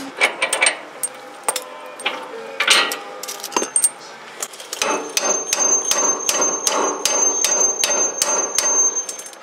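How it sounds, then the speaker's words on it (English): Sharp metallic hammer strikes on a pickle fork ring out, scattered at first, then a fast steady series of loud clanging blows on steel. "hit it once with the hammer and try to get it to split off"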